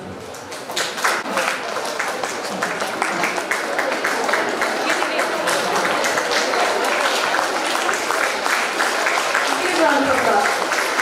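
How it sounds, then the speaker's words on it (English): Prolonged audience clapping at a prize ceremony for a periodontology department's National Periodontist Day event, a steady, dense patter of many hands that builds slightly and runs the whole stretch, with voices murmuring underneath. "Huge round of applause."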